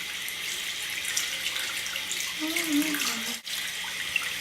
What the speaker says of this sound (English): So what you want to do is just get it a little bit wet.